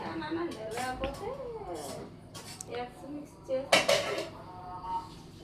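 A utensil clinks and scrapes against a bowl as eggs are beaten, with pot and cutlery knocks, one sharp clatter partway through, and someone talking over the sounds.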